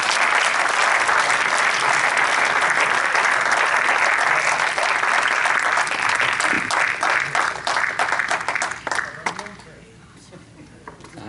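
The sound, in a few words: audience applause welcoming a poet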